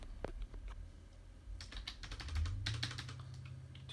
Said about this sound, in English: however you want to type this in